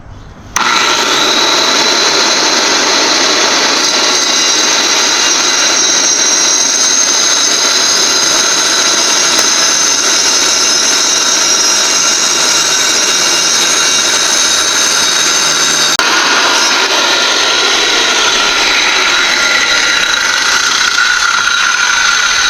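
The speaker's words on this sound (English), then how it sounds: "have to get to cutting. Alright, so we got a masonry blade here." A power saw fitted with a masonry blade cutting during woodstove upkeep, loud and close, with a steady high whine that starts abruptly and runs continuously, its pitch and tone shifting partway through the cut.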